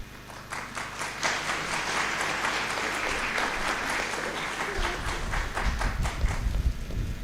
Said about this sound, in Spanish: Una vez más se solicita el aplauso para estos grandes exponentes esta noche.